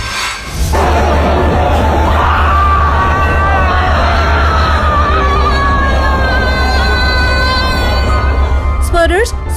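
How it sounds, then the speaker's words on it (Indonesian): A man yells loudly and hysterically during tawaf around the Kaaba, his shouts rising over a dense crowd hubbub, with other voices mixed in. "Seorang pria tiba-tiba berteriak dengan wajah memerah persis ketika sedang melakukan ibadah tawaf mengelilingi Ka'bah"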